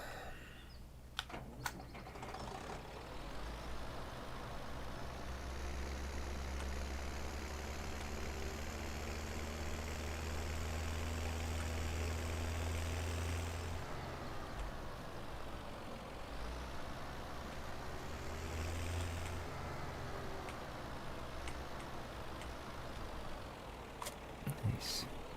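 A tractor engine runs steadily in Farming Simulator 17 on the Pacific Inlet map, a constant low drone that swells and eases slightly over about 25 seconds, with brief clicks at the start and end.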